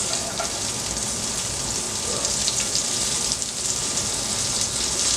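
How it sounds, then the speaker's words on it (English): Onions sizzle and fry steadily in a hot pan on high heat, a continuous loud crackling hiss that stays close and even throughout, with no voices. "It's gonna help caramelize the onions. So I'm gonna turn this up on high just to get it going."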